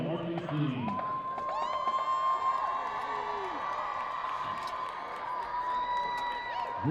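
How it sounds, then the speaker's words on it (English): A high school football crowd cheers and whoops for a marching team at halftime, a distant, steady stadium roar with shouts and whistles breaking through. "please stand up and cheer for your chief cadets, the award-winning Vice President marching team"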